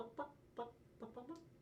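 A human voice imitates a chicken, giving four or five short, rhythmic clucks, fairly quiet and close, with no other talk.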